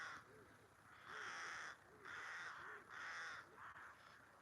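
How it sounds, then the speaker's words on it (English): Crows caw repeatedly from bushes across a river, four or five harsh, drawn-out calls in a loose rhythm, clear but somewhat distant over quiet outdoor background. "It's surrounded by birds, you can probably hear. In the bushes across the river."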